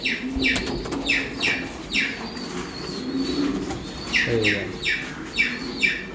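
Racing pigeons cooing close by, a regular run of soft rolling coos repeating about every half second, with faint wing shuffles and rustling beneath.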